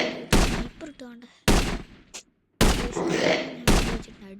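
Sniper rifle gunfire in a shooting video game, four heavy sharp shots spaced about a second apart, each with a booming tail, loud and close.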